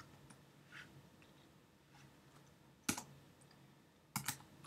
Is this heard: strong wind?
no